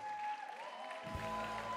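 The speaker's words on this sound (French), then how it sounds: "On l'applaudit." A burst of clapping from a small crowd at an awards ceremony during a gaming festival rises midway and carries on steadily, fairly close, over a faint high tone.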